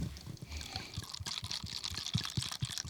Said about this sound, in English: Here, a little bit of Josh pour